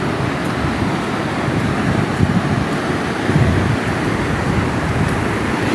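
Sea waves wash onto a beach with a steady, loud roar of surf close by, joined by wind rumble and no voices.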